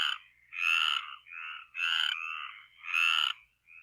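Frogs croak from the middle of watery ponds in a bright, rasping chorus, about four loud, drawn-out calls overlapping and answering one another in quick succession, close and clear with no talk.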